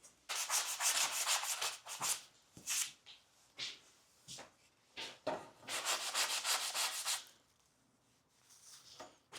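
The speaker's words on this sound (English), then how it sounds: "So we'll get a little bit of sandpaper." Sandpaper rubbed by hand over reclaimed hardwood and plywood, in quick back-and-forth bursts of scratchy strokes, close and fairly loud, with short pauses between runs.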